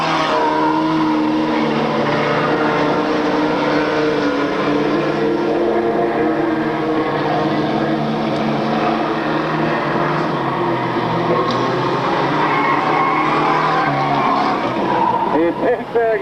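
Race cars roaring around a track at a 1997 racing event, their engines droning loud and continuous with tire squeal, while an announcer talks throughout over the noise.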